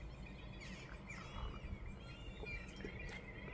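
Birds outside an apartment give faint, scattered chirps and short twittering calls, distant and soft over a low, steady background hum.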